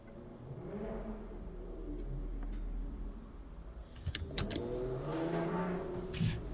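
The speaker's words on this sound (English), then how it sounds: "Sorry if you can hear that motorcycle outside." A loud motorcycle ridden by a neighbor passes outside, heard indoors as a muffled engine roar that rises and revs with shifting pitch over several seconds, moderately distant.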